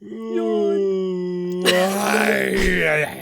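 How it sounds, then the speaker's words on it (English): A long, drawn-out vocal yawn, starting as a steady tonal moan and breaking into a breathy, noisy exhale before fading. "let me yawn"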